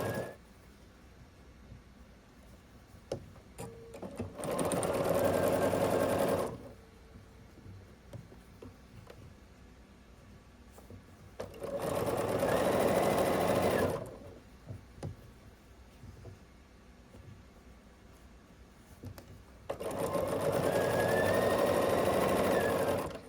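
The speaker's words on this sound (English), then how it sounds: "match those two up and sew across" Sewing machine stitching pieces of a small 'Love Is' mini quilt, running in three steady bursts of a few seconds each with quiet pauses between, fairly close and loud, no talking.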